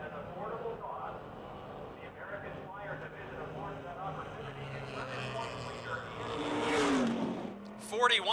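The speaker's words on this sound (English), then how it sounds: "passenger cars, modified only for driver safety, competing on street tires" Stock passenger cars on street tires race around a speedway, engines droning and rising as they pass, with a loud sweep near the end, under steady announcer commentary.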